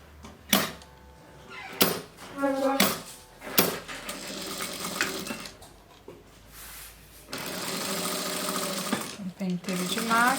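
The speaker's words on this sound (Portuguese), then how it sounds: "Eu vou costurar direto" A sewing machine stitches a dish towel in short, close bursts of rapid mechanical chatter separated by pauses, running longer near the end, with someone talking over parts of it.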